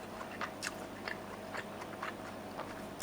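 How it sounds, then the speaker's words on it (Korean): Soft, close crunching as crisp pickled pepper in Japanese sanshozuke is chewed, a handful of brief crunches spaced irregularly over a quiet background. "근데 고추가 약간 그 씹히는 맛이 들리세요?"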